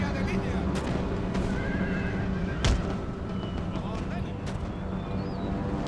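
Horses neighing and whinnying in the Empire Total War battle game, a few whinnies rising over a steady din of battlefield noise.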